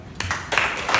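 A few scattered claps from an audience at a 2021 community outreach session in Denpasar, Bali, three separate sharp bursts in a large hall over a low background hum.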